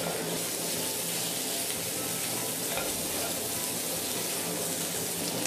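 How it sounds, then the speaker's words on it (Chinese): Pork ribs stir-frying in hot oil in a wok, a loud continuous sizzle with faint scraping as they are stirred. "油热以后倒入排骨炒香，一直炒到排骨表面微微发黄。"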